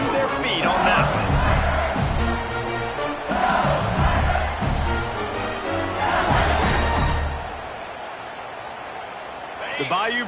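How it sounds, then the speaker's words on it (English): Football stadium crowd at TCU versus LSU roaring and cheering a punt return, loud swelling waves of massed voices with whoops, easing toward the end. "Very little will make a crowd hold its breath like a punt return, and he brought them to their feet on that one."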